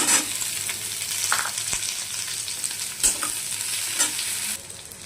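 Eggplant goes into a pan of frying onions, setting off a loud, continuous close-up sizzle with a few sharp clatters of stirring and a slight drop in the hiss near the end; nobody speaks.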